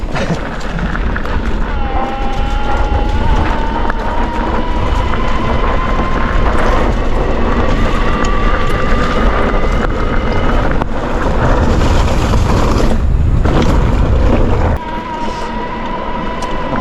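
A Specialized Levo/Kenevo e-bike motor driven by a FlipSky controller pulls hard as it accelerates, a steady rising whine layered over heavy wind rush and road rumble, with the pitch climbing and shifting near the end.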